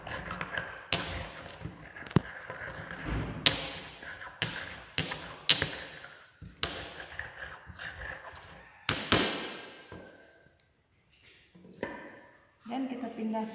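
Rose petals are stirred with alcohol in a container, producing sharp, irregular clinks and taps of a utensil against glass, some loud and ringing, with quiet pauses between them.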